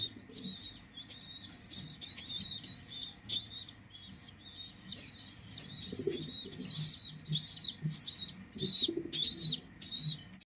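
A pair of pigeons feeding, with a steady series of soft high-pitched squeaky calls repeating in quick bursts, close and fairly faint, along with low rustling and shuffling underneath and no clear talk.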